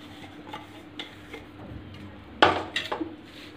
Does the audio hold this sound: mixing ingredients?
yes